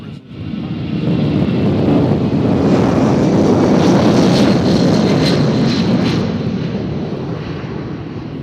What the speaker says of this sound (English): they're moving with the other 757s about to take off